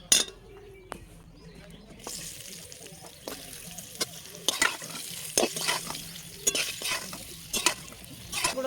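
Yardlong beans fry in oil with salt, turmeric and chili, a steady sizzle broken by repeated scraping stirs and clinks of a utensil against the pan, close and fairly loud.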